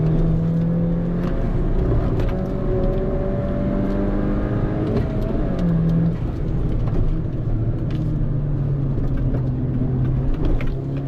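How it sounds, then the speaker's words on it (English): A 2013 Mini Cooper GP driven hard around a race track, its engine revving loud and close throughout with rising and falling pitch through the corners, steady without a break and no talk over it. "Car's handling the curves no problem."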